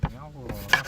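A knife chops green chilies on a board in a rustic farmhouse kitchen, giving a few sharp, close taps spaced out over a moment, with a faint sound in between.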